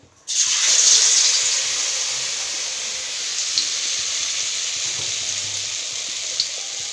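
Food sizzles steadily in hot oil in a home kitchen while vegetarian dishes such as fried potatoes and battered aubergine fritters cook, a close and continuous hiss that starts suddenly and holds at an even level, with no talking.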